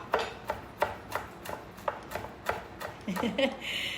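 Knife rough-chopping fresh rosemary leaves on a cutting board, a steady run of about a dozen sharp taps close by, ending with a brief scrape and rustle.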